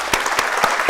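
A town hall audience at a Black Youth Town Hall claps in a short burst, with distinct, evenly spaced claps over a soft crowd wash.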